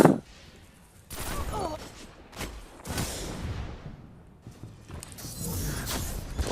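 Pulse rifle fired in Destiny PvP, a video game, heard as several short bursts of sharp shots spaced apart, with someone talking quietly between them.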